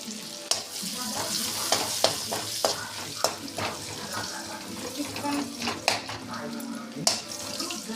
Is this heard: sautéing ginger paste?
yes